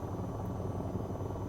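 A steady, faint helicopter rotor and engine drone from the AH-94 aircraft in a video game runs continuously without variation, no voices.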